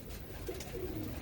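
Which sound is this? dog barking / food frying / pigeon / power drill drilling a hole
pigeon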